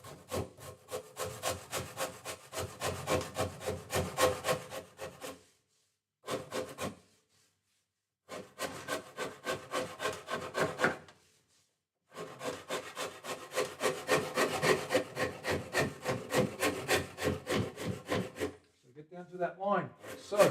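A Shinto rasp shapes the wooden body of a DIY Telecaster in close, rhythmic bursts of rough scraping strokes, broken by a few short pauses, with a faint voice near the end.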